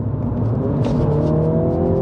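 A 2021 Mini JCW GP hot hatch accelerates hard, its engine note rising steadily in pitch under a loud, continuous roar with road and wind noise, heard from close by.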